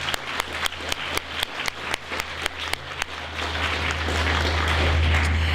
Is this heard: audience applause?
yes